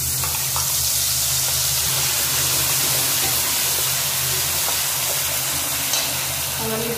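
A paste of two kinds of mustard and green chilli sizzles and spits loudly and steadily in hot mustard oil with old black cumin, cooked village-style for a hilsa fish dish.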